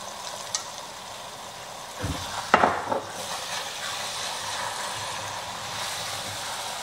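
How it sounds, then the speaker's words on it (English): Red wine is poured into a hot pot and deglazes the bottom, setting off a sudden burst of hissing and bubbling midway. A softer, steady sizzle carries on before and after it. "We're gonna use that red wine to deglaze the bottom of the pot."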